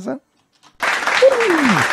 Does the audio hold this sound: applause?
yes